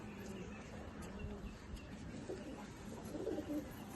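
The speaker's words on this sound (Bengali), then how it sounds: "দারুণ পায়রা।" Pigeons in a loft give soft, low cooing that comes and goes in a steady background murmur, with a few brief chirps.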